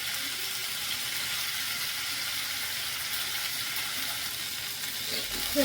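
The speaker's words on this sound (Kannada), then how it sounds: "ಅದನ್ನು ನೀರೆಲ್ಲ ಕುಂಡೋವರೆಗೂ ಇದನ್ನ ಚೆನ್ನಾಗಿ ಫ್ರೈ ಮಾಡ್ಕೊಳ್ಳೋಣ ಒಂದು ಟೂ ಮಿನಿಟ್ಸ್" Chopped capsicum fries in a pan for capsicum curry, giving a steady, even sizzle as its moisture cooks off, with a brief clatter at the very end.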